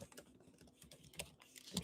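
Typing on a computer keyboard, a quick run of light, irregular key clicks close to the microphone, quiet and brief.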